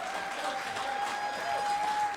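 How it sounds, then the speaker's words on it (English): Steady applause fills a church gathering after a graduation speech, a dense, even wash of many hands that stays level throughout, with a thin sustained tone running beneath it. "I don't want to stop clapping"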